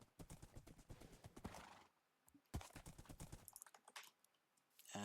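Horses clip-clop and neigh in a Minecraft-style survival multiplayer game, rapid hoof taps crowding the opening seconds, then a short pause before another burst of hooves and whinnies, with a loud neigh at the end.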